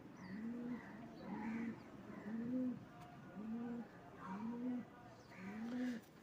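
A newly caught black kaldom pigeon coos in a loft, giving about six evenly spaced, rolling coos in a steady rhythm, fairly faint against a quiet background.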